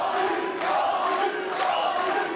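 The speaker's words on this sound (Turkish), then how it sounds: "Avni Avni sesleri." Boxing arena crowd at an Avni Yildirim versus Lolenga Mock bout, a steady loud roar of many voices chanting the boxer's name in rhythmic waves throughout.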